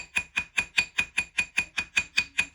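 A small hammer taps a metal stacking ring in a steady, even rhythm, about a dozen sharp, bright metallic strikes at close range with no voices.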